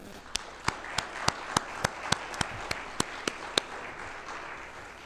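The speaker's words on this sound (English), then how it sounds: "Let's give them a round of applause." Sharp, evenly spaced claps ring out one after another in a church after Mass, about a dozen distinct hand claps over a soft background murmur.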